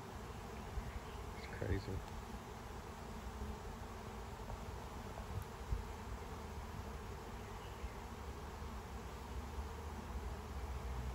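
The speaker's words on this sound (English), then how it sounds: "There's very few bees in the air." A honeybee swarm moving into a nuc box in a beekeeping setting, with a continuous droning buzz of many bees nearby and a few individual bees passing close. A person speaks briefly.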